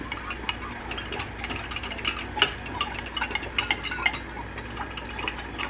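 A whisk beating a cornstarch slurry into orange chicken sauce in a pan, a close, busy run of quick metallic clicks and taps against the pan that continues steadily with no talking.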